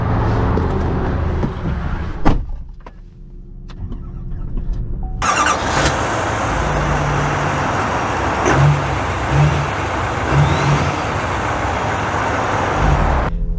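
A 2024 GMC Sierra 2500 HD Pro double cab work truck pulls away, a brief clunk and quiet lull giving way to a loud, steady engine and road rumble heard from inside.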